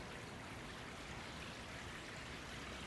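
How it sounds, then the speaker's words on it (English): Steady rushing water from waterfalls flanking a stone memorial wall, a dense, even broadband wash that holds constant and fills the whole stretch with no talk over it. "It's flanked on each side with waterfalls."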